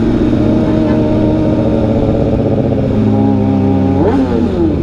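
A 2008 Suzuki Katana inline-four motorcycle engine drones loudly and close, then revs up sharply near the end with a rising whine.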